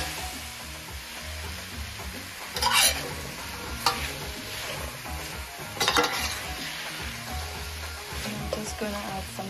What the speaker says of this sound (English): I'm gonna add the edoes